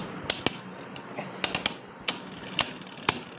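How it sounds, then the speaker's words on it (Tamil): A Beyblade Genesis Valtryek, an attack-type top, spins around a plastic stadium, making sharp, irregular clicks and clacks as it strikes the walls, with a faint whirring hum between the hits. "நம்ம கெனிசிஸ் தான் அட்டாக் டைப் பண்ணுறதுனால வெறுன்னு சுற்றுறான்"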